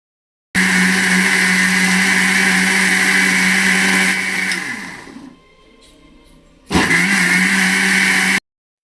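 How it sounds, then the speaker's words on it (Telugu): Kitchen mixer grinder whirring loudly as it blends onion, tomato, dried chilli, garlic and salt without water, running steadily, slowing to a brief pause, then roaring again in a second burst before cutting off. "ఉల్లిపాయలు టమాటోలు ఎండుమిరపకాయలు వెల్లుల్లి కొంచెం సాల్ట్ వేసి మిక్సీ పట్టాలి"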